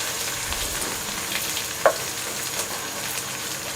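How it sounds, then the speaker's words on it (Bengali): Chopped onions frying in oil for Bangladeshi tehari: a steady, close sizzle with one sharp clink midway and faint stirring throughout. "পেঁয়াজগুলোকে হালকা একটু ব্রাউন করে ভেজে নিতে হবে।"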